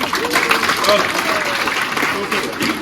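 Children at a Mass clap together for a few seconds, a close, busy patter of hands mixed with voices.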